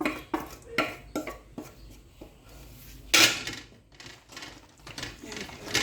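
Pasta tipped into a pan for a simple carbonara, giving a run of close clattering knocks and one louder clash midway, followed by softer scraping and rustling.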